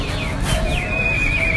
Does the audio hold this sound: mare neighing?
yes